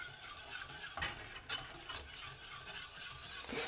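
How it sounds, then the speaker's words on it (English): Yeast being whisked into tangzhong in a bowl, a quiet run of swishing with a couple of sharper clinks of the whisk against the bowl and no talk. "whisk it in."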